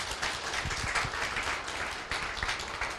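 An audience at a team event gives warm applause, a faint, even, sustained patter of many hands clapping heard from a distance.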